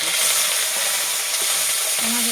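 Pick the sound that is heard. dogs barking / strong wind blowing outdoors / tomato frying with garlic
tomato frying with garlic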